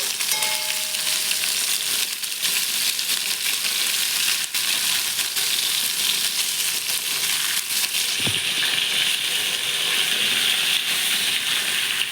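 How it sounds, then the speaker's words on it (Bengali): Fish frying in hot oil in a village kitchen, turned from one side to the other: a constant loud sizzle and hiss with faint stirring scrapes and one brief knock near the end, no talking. "এবার মাছগুলো ভেজে নিচ্ছে, এক পাশ থেকে আরেক পাশ উল্টিয়ে নিচ্ছে।"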